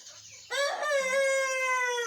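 A chicken with a bad limp from an injury gives a loud, close, drawn-out harmonic crow-like call lasting about a second and a half, following a faint quieter lead-in.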